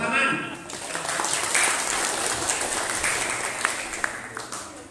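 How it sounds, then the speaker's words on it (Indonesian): An audience at an Islamic religious lecture for Isra Mi'raj applauds in a brief burst of clapping that starts dense and then tapers off, with some murmuring beneath it. "tepuk tangan."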